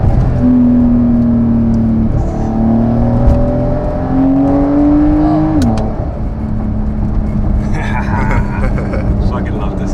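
Car engine revving nearby with rising and falling whining tones over a steady rumble, and people talking over it.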